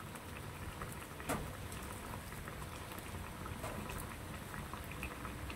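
Pork lungs simmering in coconut milk bubble and boil steadily in a pot, a dense, even crackle of popping bubbles close by, with no talking over it.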